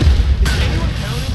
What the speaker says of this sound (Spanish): Vamos a ver una, última vez la explosión nuclear